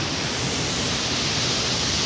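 The Ganges rushes beside a wet mountain trail on the route to Gaumukh, a dense, steady roar of fast-flowing water filling the whole clip, loud and close with no pauses.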